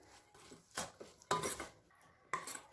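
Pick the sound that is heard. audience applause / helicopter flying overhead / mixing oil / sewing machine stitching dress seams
mixing oil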